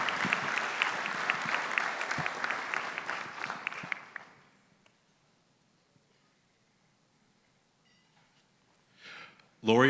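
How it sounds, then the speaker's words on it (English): Audience at a Junior Achievement Business Hall of Fame ceremony claps loudly for about four seconds, dense hall applause that then fades to near silence before a closing noise. "a big round of applause for the members of the Junior Achievement Business Hall of Fame"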